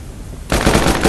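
A firearm in single-fire mode goes off in a sudden loud close burst after half a second of quiet, with the report ringing for the remainder of the moment.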